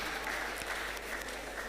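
An audience at a school public speaking competition claps for a school, a short burst of steady applause, fairly faint and even.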